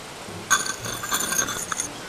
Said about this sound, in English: I'll try to cut a hole in the glass.